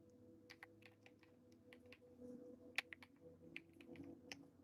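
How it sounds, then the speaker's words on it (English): Typing on a keyboard with arcade-style bubbly keycaps: a close, quiet run of crisp, uneven keystroke clicks and clacks with a low hum beneath, heard alone. "But listen to how this keyboard sounds."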